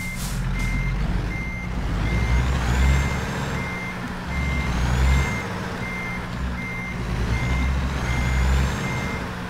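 Truck reversing beeps in American Truck Simulator, evenly spaced tones repeating steadily over a low engine rumble with periodic surges, loud and close, with no talking.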